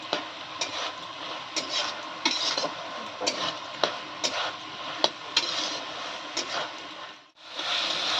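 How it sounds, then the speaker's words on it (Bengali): Drumstick flowers fry in a pan while being stirred, a soft background sizzle punctuated by repeated clicks and scrapes of a utensil, with a brief pause near the end. "এইভাবে ভালো করে এটাকে ভেজে নিতে হবে কষা কষা টাইপের"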